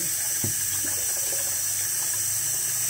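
Water pours steadily into a rice cooker during adobo preparation, producing a continuous rushing, hissing flow with a faint splash near the start.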